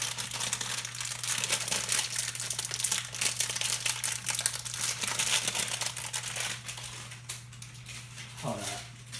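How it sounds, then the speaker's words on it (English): Packaged cookie dough is torn open by hand in a kitchen, producing close, busy crinkling and rustling of plastic wrapper that continues steadily, ending with a brief scrape. "So we're just gonna open up the doughs."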